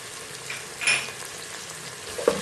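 Onion, garlic cloves and ginger frying in oil in a pot, a steady soft sizzle with a brief louder stir and scrape near the middle and a small clink near the end.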